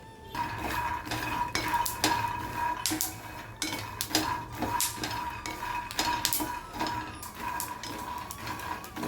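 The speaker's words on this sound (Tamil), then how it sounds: "நல்லா செவக்க வறுத்தாச்சு." Peanuts dry-roast in a pan for peanut chikki, with constant rattling, clinking and scraping as a ladle stirs the nuts against the metal in a busy, irregular rhythm up close.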